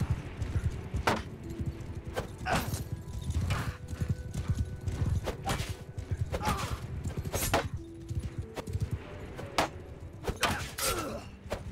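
Cavalry horses galloping in Mount & Blade II: Bannerlord during a battle charge, with steady, rapid hoofbeats throughout and occasional whinnies and impacts over a dense battle din.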